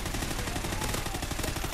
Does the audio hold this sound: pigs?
no